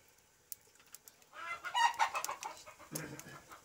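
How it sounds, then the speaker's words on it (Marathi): Hens cluck on a Konkan village farmyard, a run of close, uneven clucks rising in the middle and continuing to the end, with no talk over them. "कोंबड्या कॉक कॉक करताय त्याला"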